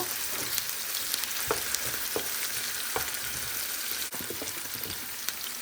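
Chickpeas and small potato pieces fry in a pan, a steady sizzle with occasional stirring scrapes and clicks, fairly quiet and close.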